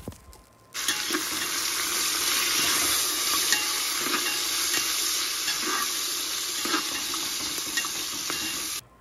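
Mint leaves and green chillies frying in a pan, giving a steady, dense hiss of sizzling oil that starts abruptly and holds evenly throughout, with faint stirring scrapes, close by.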